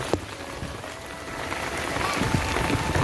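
Steady rain falls outdoors through a long overnight-into-morning downpour, a continuous broadband hiss with scattered drop patter, heard from near a home kitchen.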